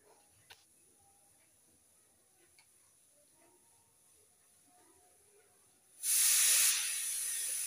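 Cumin seeds and asafoetida hit hot oil in a pan, bursting into a loud, bright sizzle near the end that stays steady after a long quiet stretch of faint kitchen sounds.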